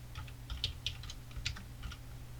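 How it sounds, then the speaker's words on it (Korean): Keys on a computer keyboard typed in short irregular bursts of clicks during a text edit, close up and fairly quiet over a low steady hum, with no talking. "다른 내용으로 바꿔서 타이핑 하실게요"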